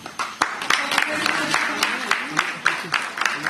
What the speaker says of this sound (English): A big round of applause for Professor